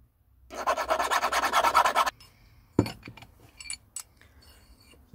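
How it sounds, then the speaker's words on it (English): A hand file rasps across the inside of a metal suspension bushing part from a VW T3 van's upper control arm: a quick rhythmic burst of close, scratchy strokes lasting under two seconds, followed by scattered clinks and handling knocks. "what I'm going to do is just file away a bit of the inside on both sides"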